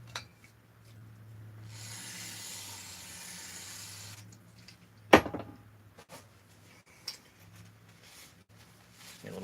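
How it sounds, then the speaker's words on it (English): A soft hiss of brake cleaner sprayed onto a base being degreased runs for about two seconds. It is followed by a sharp metallic clack and a few faint handling knocks in a quiet workshop. "A little brake cleaner on the base."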